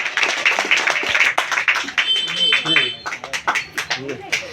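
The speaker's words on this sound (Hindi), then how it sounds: "जोरदार जोरदार ताली" Scattered clapping at a political party gathering at an office, brief bursts of applause mixed with someone talking loudly over it.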